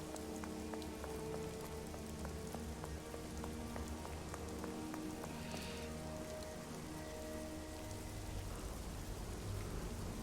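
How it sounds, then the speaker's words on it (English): Steady rain falls in a video game, a dense, even patter of drops on surfaces with a few faint distant rumbles, holding at constant loudness for about ten seconds without any talk. "Now, it's raining."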